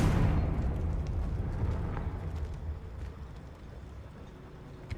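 A Confringo fire spell explosion in the video game Hogwarts Legacy, a single rumbling blast at the start that fades into a low, crackling roar over several seconds, with no talk.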